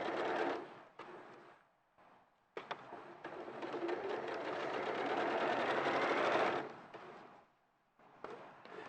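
A sewing machine stitches fabric in several runs, a soft rapid mechanical rattle starting and stopping, with the longest run in the middle, fairly quiet and close.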